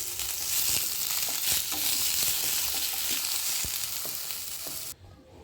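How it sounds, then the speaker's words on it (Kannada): Ridge gourd sizzles in hot oil in a pan as it is stirred, a steady crackling fry with occasional scraping taps, then stopping abruptly near the end. "ಇಲ್ಲಿ ಅದನ್ನು ಹೀರೆಕಾಯಿನ ಫ್ರೈ ಮಾಡೋಣ ರೀ"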